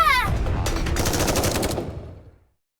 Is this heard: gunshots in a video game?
yes